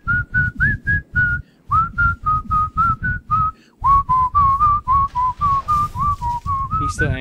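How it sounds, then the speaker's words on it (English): Someone whistles the Kill Bill whistle tune during a Demon's Souls gaming session, a clear, loud melody of short repeated notes with a brief gap before the phrase drops lower and continues, sharp breathy onsets on each note. "I just had to finish the Kill Bill whistle"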